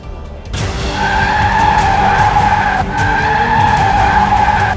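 A car at a building gate in Oshiwara lurches forward with a loud, sustained tire screech, its squealing tone holding steady for several seconds with a brief dip midway, as captured on a security camera.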